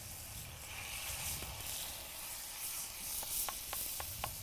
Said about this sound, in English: Stir that around a bit.